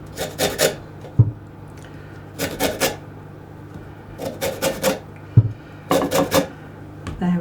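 Lemons are zested on a metal grater in quick bursts of rasping strokes, four clusters of scraping with light knocks between them, close and clear.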